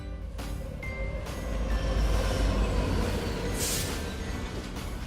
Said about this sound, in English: We're actually on the light rail system and coming into downtown Tempe.